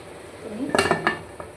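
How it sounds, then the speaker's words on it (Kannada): A metal pressure cooker lid is set on and closed over a boiling chicken biryani pot, giving a short cluster of clanks and metallic clinks, close and fairly loud, with no talking. "ಇವಾಗ ಕುಕ್ಕರ್ ಮುಚ್ಚಳ ಮುಚ್ಚಿ"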